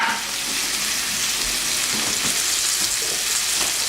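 Chopped onions sautéing for gravy in a skillet, a steady close crackling sizzle that holds evenly throughout with faint stirring scrapes, no voices.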